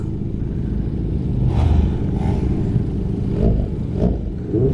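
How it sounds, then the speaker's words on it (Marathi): Engine of a touring motorcycle rising in pitch as the rider accelerates, a steady close rumble with brief revving swells and wind noise, no one speaking. "first time me touring bike चालवतोय"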